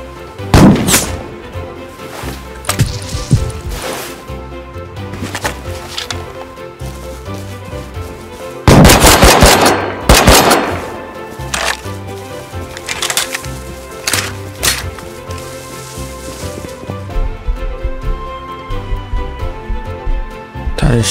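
Gunfire from an AK rifle in the survival game Rust, sharp bursts of shots scattered throughout, with a loud cluster near the middle and lighter cracks later, mixed with ambient game sounds.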